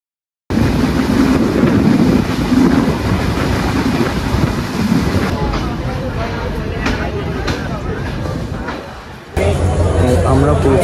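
Dhumketu Express, an intercity train between Rajshahi and Dhaka, rushing along at speed, with loud continuous wind buffeting and a steady low rumble throughout, briefly dropping near the end before surging back.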